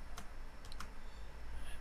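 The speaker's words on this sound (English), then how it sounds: "hold down the Q button on the keyboard" A single key pressed and held on a computer keyboard, a few faint clicks standing alone against low background hum.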